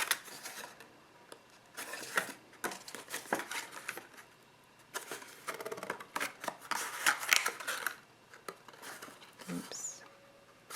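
Heavy cardstock pieces being folded and handled up close, in irregular bursts of crisp creasing, crinkling and rustling with brief pauses.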